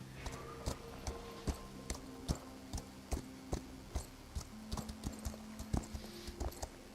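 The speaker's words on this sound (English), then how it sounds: "it's really relaxing to me just to ride the horse around" Horse hooves clip-clopping at a steady walking pace while riding in the Equinox Homecoming video game, crisp regular hoofbeats over soft ambient background music.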